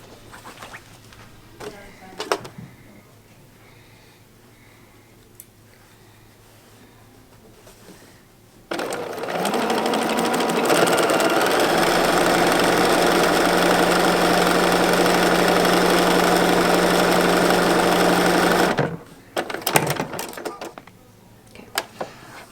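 Sewing machine stitching a half-inch seam on a table runner, running as a steady continuous whir for about ten seconds, then stopping, with quiet handling noises and clicks before and after.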